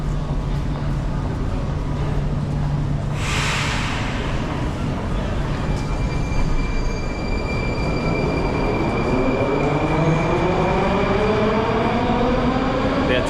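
A Moscow metro train on the blue line runs through an underground station, filling the platform with a loud, steady roar and rising metallic wheel squeals throughout.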